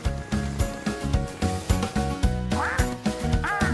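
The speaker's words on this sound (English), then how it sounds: "That's Dylan the duck." A cartoon duck in a children's construction-truck show quacks in a steady, rapid string of loud quacks set over a rhythmic, bouncy music bed.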